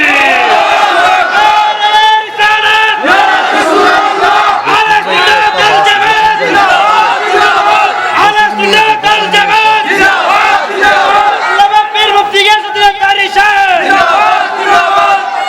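A huge outdoor crowd at a Bangladeshi religious gathering roars a loud, sustained Takbir response in unison, dense massed shouting that fills the whole stretch with only brief dips.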